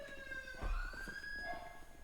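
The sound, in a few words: police sirens in FiveM GTA roleplay video game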